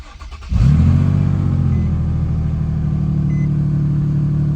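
A car engine with a bad exhaust leak cranks and catches about half a second in, then settles into a loud, rough, throaty idle with a raspy exhaust rumble that continues steadily.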